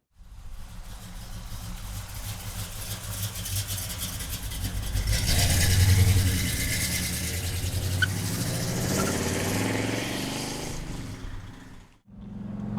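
Engine of a black 1965 Pontiac GTO convertible with a 4-speed, running close by as a steady rumble that swells into a brief rev around the middle, then settles before cutting off near the end.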